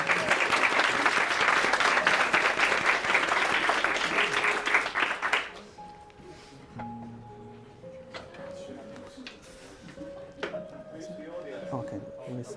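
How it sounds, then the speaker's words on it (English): Loud, dense audience applause at a university game jam final talk fills the first five seconds, then cuts off sharply, leaving quieter room sound with scattered tones and beeps. "Okay, clap."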